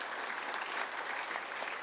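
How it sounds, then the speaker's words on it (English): Quiet, fairly distant applause from a conference audience after a legal seminar session, steady continuous clapping heard faintly throughout. "Let's clap for these 4 speakers."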